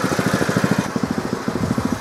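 A gas-powered cold water pressure washer engine runs at full throttle, a near, steady rapid pulsing chug with no voices over it.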